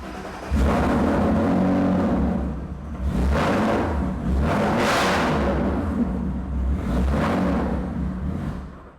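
Car engine started and run through a Project X Ghost Box control unit handling ignition and fuel pumps, producing a close, steady rumble that surges into several loud revs over about nine seconds, with no talking.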